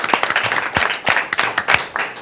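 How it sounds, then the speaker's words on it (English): Scattered clapping from a small group at a city commission meeting, honoring the recreation staff, comes as uneven, distinct hand claps with little talk around it. "let's give them a big round of applause for their effort"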